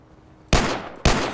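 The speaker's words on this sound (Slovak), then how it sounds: "Ďalší varovný výstrel." Two sharp, loud warning gunshots ring out in a video game, about half a second apart, each with a short echoing tail and no talk over them.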